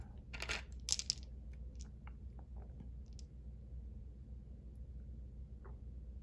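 Plastic dice clatter and tumble onto a tabletop during a Global War 1936 board game session, a short cluster of sharp rattling clicks early on, then a few scattered taps over quiet room noise.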